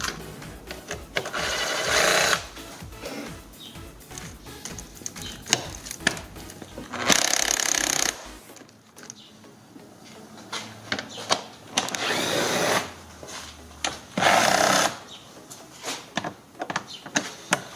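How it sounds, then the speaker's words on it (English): Bolts being loosened with an 8mm socket on a Dodge Journey (Fiat Freemont) air filter box, bursts of ratcheting and scraping close by, separated by quieter handling noise, with no talk. "Now, with 8mm guys, we're going to remove a few bolts."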